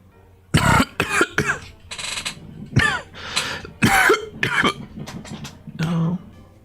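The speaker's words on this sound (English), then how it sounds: "I've got the cough and the hiccups." Repeated harsh coughing and throat clearing in a series of close, loud bursts, with short pauses between them and no talk.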